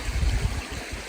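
A creek flowing outside Whitewater Preserve along the Pacific Crest Trail, heard as a close, rumbling rush of water with gusty low surges and no talking.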